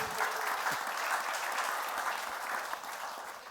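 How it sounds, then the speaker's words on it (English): A conference audience at a talk on AI for engineers applauds, with steady, even clapping from many hands, moderately close, continuing for several seconds without speech. "So give a little applause to Bernd."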